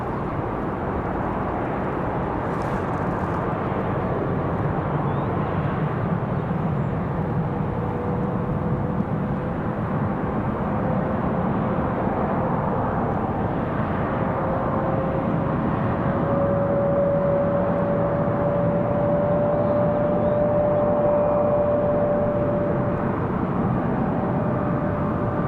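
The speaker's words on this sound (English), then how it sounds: "There's that other Republic Airways departure." A Republic Airways airliner departs Raleigh-Durham International, its jet engines a loud continuous roar that holds steady throughout, with a faint rising whine emerging partway through.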